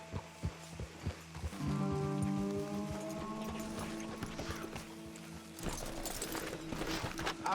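Horses clip-clop along a road in the video game Red Dead Redemption 2, with a run of steady hoofbeats near the start under a sustained musical drone and rain-like ambience.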